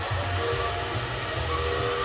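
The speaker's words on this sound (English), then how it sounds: "Oh, you can hear the train in the background." A train rumbles past in the background near Hersheypark, a steady low distant roll with faint squealing tones on top and no talk.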